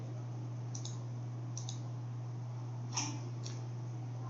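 Crisp clicks of a computer mouse sound in pairs against a steady low electrical hum, about four separate double-clicks spread evenly, close and fairly quiet, with no talking.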